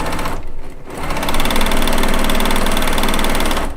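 A domestic sewing machine pieces quilt blocks for a Lacey Log Cabin quilt top, running in a close, steady mechanical whir of stitching after a short pause near the start, then continuing evenly to the end.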